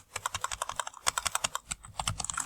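Rapid, uneven keystrokes on a computer keyboard while text is entered into a spreadsheet cell, close and clear, in a quick continuous run of clicks with no talking.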